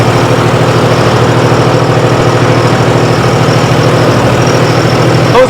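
A tractor with a rotavator runs in a field, its heavy engine making a loud, close, steady drone with a low rumbling pulse that continues unbroken throughout.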